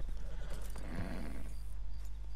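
A grey wild horse in Red Dead Redemption 2 neighs once in a loud, rough whinny over a low steady rumble, with faint hoof clatter around it.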